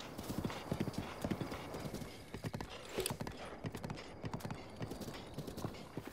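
A horse gallops in the video game Zelda Breath of the Wild, steady rapid hoof clip-clops running throughout at moderate volume, with a brief whinny partway through.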